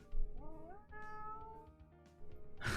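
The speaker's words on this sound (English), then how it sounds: "My cat is meowing viciously in the background." House cat meowing in the background during a game session, a couple of drawn-out, rising and falling meows, fairly faint and distant, with nothing else prominent.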